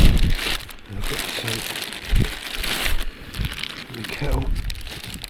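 A plastic bag crinkles as a soot-covered camping kettle, used over an open fire, is unwrapped outdoors; bursts of rustling come and go under a person talking nearby.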